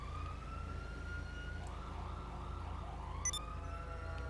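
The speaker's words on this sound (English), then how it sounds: "Where is the siren coming from?" A police siren in the video game GTA 5 wails faintly in the distance, a thin rising and falling tone over a steady low rumble, with a few brief higher blips near the end.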